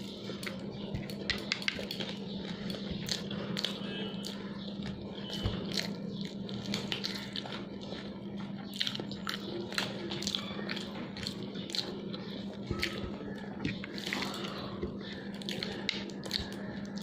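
A meal of rice and fish eaten by hand from a plate, with soft irregular clinks of dishes and utensils, light chewing and handling noises over a steady low background hum, close and continuous with no talking.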